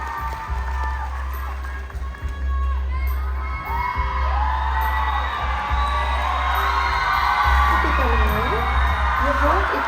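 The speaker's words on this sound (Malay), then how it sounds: "Tepukan gemuruh hadirin sekalian" Loud crowd cheering and shouting at a state-level Unduk Ngadau beauty pageant in Sabah, continuous and dense throughout, with whoops and shrill voices rising over the steady roar of the audience.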